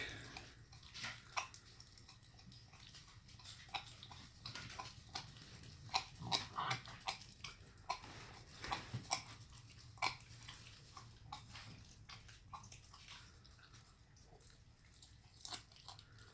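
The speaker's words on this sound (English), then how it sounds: "Right there is Halo eating a whole turkey neck." Quiet wet crunching and gnawing as an 8-week-old Blue Bay Shepherd puppy chews on a whole raw turkey neck, with irregular bites and crackles over a soft background hum.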